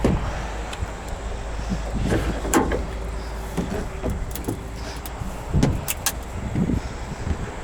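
The six-way adjustable tailgate on a 2020 GMC Sierra 1500 AT4 pickup opening, with a low motor hum under scattered clicks, latch clunks and a few sharp metallic knocks, fairly close.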